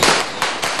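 Firecrackers going off during New Year celebrations in Tondo, Manila: three sharp, loud, close bangs in quick succession, each with a short crackling tail.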